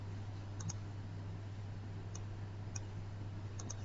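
Computer mouse clicks while drawing with the pen tool in Adobe Illustrator CC 2018, a handful of small, sharp clicks spaced irregularly, some in quick pairs, over a steady low hum.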